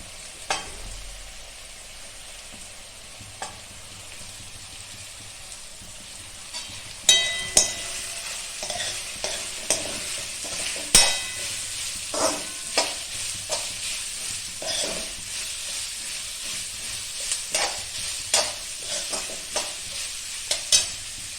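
Sliced onion and carrot are stir-fried in a pan for hakka noodles, giving a steady close sizzle broken by repeated scraping and clinking strokes of a spatula that grow busier after the first few seconds.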